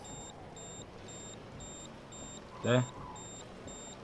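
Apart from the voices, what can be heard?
low-fuel warning beep in a truck, from a video game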